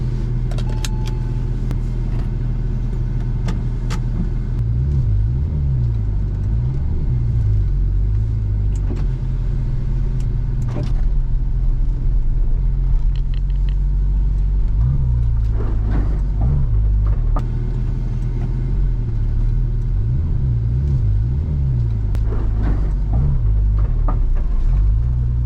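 A Porsche 911 Turbo drives slowly, its engine a close, deep, steady rumble with a few brief revs rising and falling, and some light interior rattles over the top.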